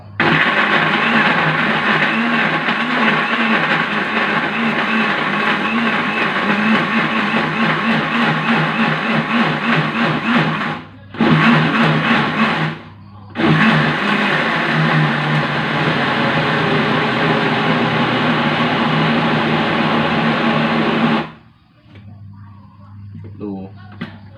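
A blender grinds cleaned, chopped freshwater fish into paste for Thai fish cakes, a loud continuous whirring motor roar that cuts out twice briefly, then stops, with someone speaking over it.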